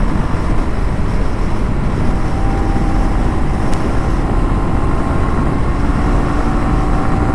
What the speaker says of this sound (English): I'm in 110. Too much of wind blast.